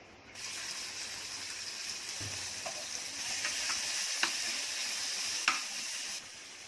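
Mustard seeds and chutney sizzling in hot oil in a pan, a steady frying hiss that swells after the ingredients go in, with a few sharp crackles and pops, close up, no talking.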